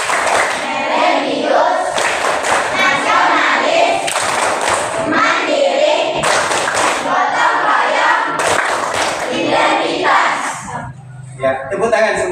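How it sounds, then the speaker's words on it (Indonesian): Classroom of children clapping hands together on cue, loud, rhythmic bursts of claps with thumps and a teacher's voice and pupils' voices mixed in, the clapping dropping off near the end. "tepuk tangan semuanya"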